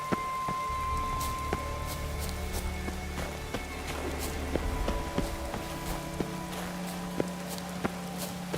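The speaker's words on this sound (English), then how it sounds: "Looks like rain." Rain falls in The Witcher 3: Wild Hunt as a steady, even hiss, with scattered taps like footsteps and low sustained tones underneath.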